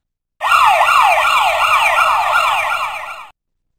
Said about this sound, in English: Everyone out of the way! An ambulance is coming!